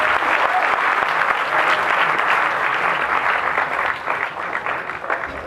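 Audience at a parliamentary debate final giving the two teams a large round of applause, a steady, dense burst of clapping that thins toward the end.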